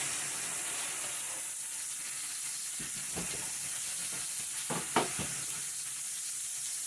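Pork steaks sizzle on an Ozark Trail griddle with a constant, loud frying hiss throughout. A few brief scraping or stirring clicks come near the end.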